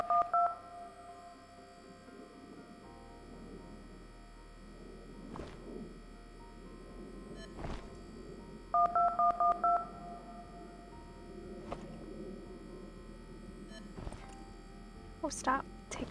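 Phone keypad tones are dialed in the Plane Accident video game: a quick burst of DTMF beeps at the start and another run of several beeps midway, crisp over a quiet hum, with someone talking between them.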